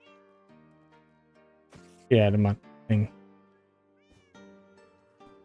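Minecraft cats meow twice in a video game, loud and close, over soft in-game music, with someone speaking briefly.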